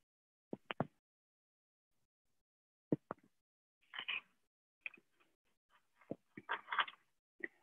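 Frog croaking, short isolated croaks and rasping calls in scattered bursts separated by silent gaps, fairly close and clear.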